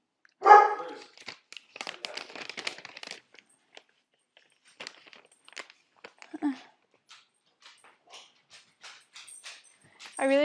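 A dog lets out a sharp, loud bark near the start, followed by quieter scattered yips and soft rustling in a kitchen where pasta is being made, with brief gaps of near silence.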